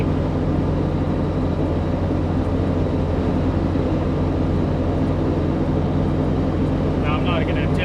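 A Suzuki Samurai with a swapped 1.6 16V engine cruises in fourth gear at highway speed, a loud, constant rumble of engine and road noise heard from inside the cab, with someone talking over it.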